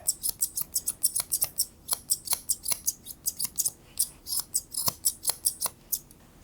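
Grooming scissors snipping hair around the ear of a Moodle dog, a steady run of about thirty crisp, close metallic clicks in quick rhythm, with no talking.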